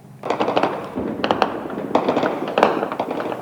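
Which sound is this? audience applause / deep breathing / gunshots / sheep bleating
gunshots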